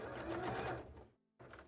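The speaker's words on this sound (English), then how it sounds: "let's sew these two pieces together" A sewing machine stitches cosplay tail pieces together in one close, steady run that stops abruptly, then starts again after a brief silence.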